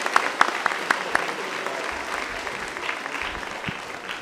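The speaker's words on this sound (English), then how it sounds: "Can we give a round of applause for the chorus" A school audience at a middle school evening performance applauds the chorus, with a few sharp, close claps up front over a broad, sustained patter of hands that thins slightly toward the end.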